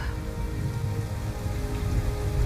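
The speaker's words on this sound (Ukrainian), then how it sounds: "Це просто дощ." Steady rain patters densely on a surface, a continuous hiss with no pauses and no voices.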